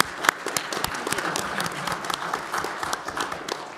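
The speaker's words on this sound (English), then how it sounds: "please give our speakers a round of applause here for a minute" Audience applause for speakers at an emergency preparedness session, a sustained patter of many hands with sharp individual claps standing out, steady and moderately loud.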